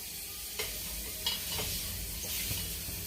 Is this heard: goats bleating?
no